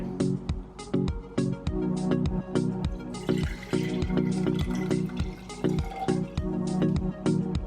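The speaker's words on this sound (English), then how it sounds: "the first thing you're going to need to do is pour the water into the jar" Close, repeated plinks and splashes of water poured into a jar, with a gurgling, uneven rhythm throughout.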